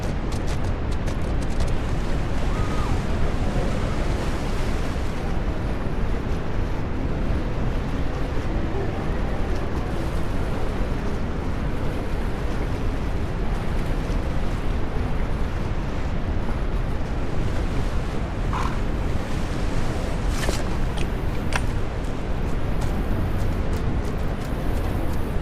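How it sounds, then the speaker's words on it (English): Wind gusts and ocean waves in a historic open-world survival delivery game, a steady, full rush of blowing air and rolling surf with no pauses, loud and constant throughout. "Very windy."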